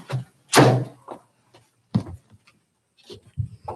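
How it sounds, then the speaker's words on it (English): A school door opening with a thunk and a latch clatter, followed by a few softer knocks and bumps. Sounds are close and intermittent, with near-silent gaps between them. "I'll get the door for you."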